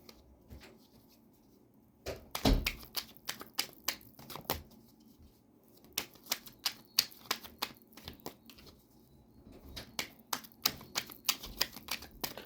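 Crisp rapid clicks and flutters of cards being shuffled come in quick irregular bursts, fairly close and quiet, with short pauses.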